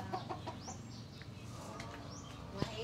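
Pet chickens in a village barangay cluck and chirp softly at a little distance, scattered short calls over a low outdoor background.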